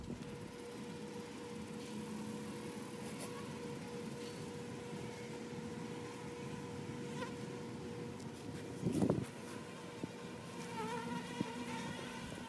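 Many bees hum steadily outdoors around honey extraction equipment left out to be cleaned, a constant buzzing drone with one bee passing close and loud partway through.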